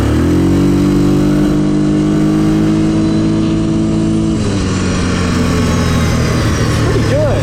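A Grizzly ATV engine roars loud and close, holding a steady droning pitch before dropping lower as the machine moves off, with no talk over it.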